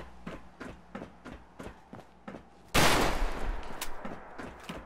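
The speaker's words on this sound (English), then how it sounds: "That's the sound effect of like a heavy machine gun." A modded Sturmgewehr assault rifle in Fallout 4 fires a run of evenly spaced single shots, then a loud heavy sustained burst with a booming tail. No voices are heard.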